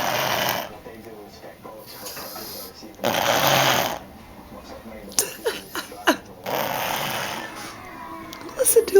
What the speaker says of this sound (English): Listen to him snore.